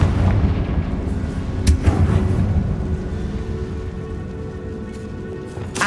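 Confringo fire spell from Hogwarts Legacy erupting as a sustained, loud booming blast with crackling bursts layered on top, filling the whole moment without any talking.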